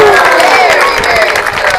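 Farm animal show audience clapping as an alpaca jumps over an obstacle, a brief burst of applause and cheering from a crowd, loud and close.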